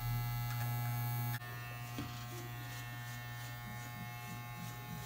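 An electric beard trimmer buzzes steadily and close while cutting beard hair during a beard line-up, with the motor pitch shifting slightly as it meets the hair.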